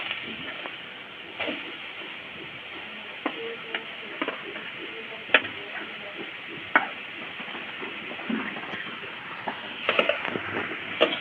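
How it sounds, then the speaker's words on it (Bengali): Grated papaya with a bay leaf frying in oil makes a muffled sizzle with scattered spatula taps and scrapes, a little busier toward the end, and no one speaking. "তেজপাতা হালকা ভাজা হয়ে গেছে এই অবস্থায় দিয়ে দেব কুড়ে রাখা পেঁপে"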